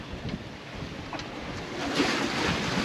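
Big seas and wind on a sailboat out in the Tasman Sea, a steady broad roar of wind and rushing water with surges of waves building louder toward the end, no voices.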